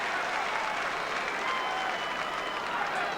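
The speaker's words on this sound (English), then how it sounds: "we get a breath just to applaud Coughlin" A football crowd at a 2003 AFL match between St Kilda and Richmond applauds a player, a broad, even wash of clapping from a large stadium audience that holds steady throughout.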